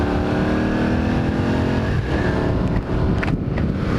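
A 1981 Honda CX500 motorcycle engine runs cold: a loud, steady, close rumbling idle with a rich buzzy tone and a few slight surges and dips near the end.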